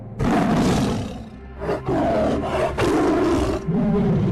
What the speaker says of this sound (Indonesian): Maung Sancang mengaum keras